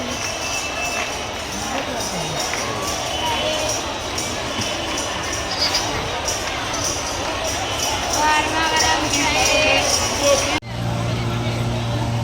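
A large crowd of devotees mills about a Shiv Mahapuran katha pandal in Deoghar, with a dense, steady hubbub of voices and footsteps that cuts abruptly to a different ambience near the end.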